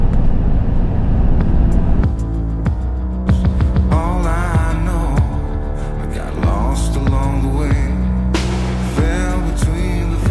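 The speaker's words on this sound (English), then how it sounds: "Driving through the snow is fine." A camper van rolling through snowy winter roads, with a loud, steady low engine drone and road rumble from inside the cabin, plus passing tonal whines and varying pitch.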